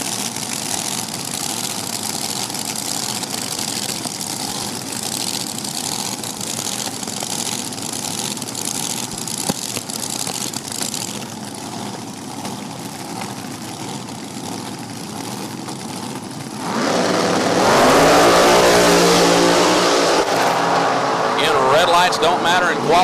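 A big block Chevy-powered Nelson chassis drag racing car at an NHRA Division 4 event at No Problem Raceway holds a steady, rumbling idle, then surges into a much louder rev near the end, with voices murmuring underneath.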